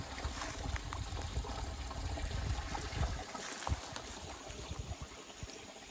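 Water trickling and flowing down from the hills to feed year-round farm fields in rural Konkan, a steady close gurgle that stays continuous throughout with no talk.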